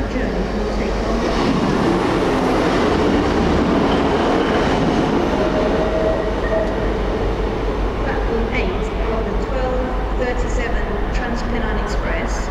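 Steam locomotive 34046 Braunton rolls through Doncaster station on a Steam Dreams excursion to York, a loud, steady roar of wheels and rail noise that holds throughout, with station announcements heard faintly in the background.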